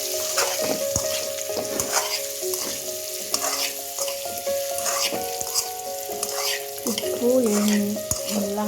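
Oil sizzles steadily in a pan while egg biryani ingredients are fried and stirred, with scraping stirs over the continuous frying hiss and faint tones in the background.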